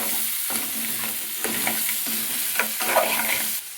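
Fried crabs sizzle steadily in a pan with salt and chili while a spoon stirs them, giving a constant close frying hiss broken by regular scraping strokes.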